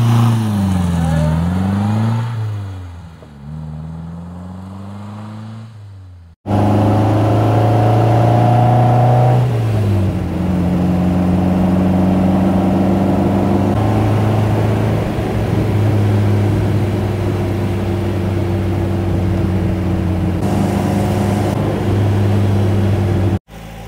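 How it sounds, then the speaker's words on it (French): A 1959 MGA 1500 roadster's engine revs and settles into a steady, loud drone, with pitch rising and dipping early on before holding an even note; a brief dropout cuts in, and the run ends abruptly. "MGA 1500 Roadster"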